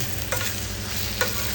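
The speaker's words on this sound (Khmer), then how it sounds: "នេះយើងកំពុងតែកូរវាបងប្អូន" Noodles are stir-fried in a pan with a steady close sizzle and frying hiss throughout, while a utensil scrapes and stirs in two brief strokes. No one speaks.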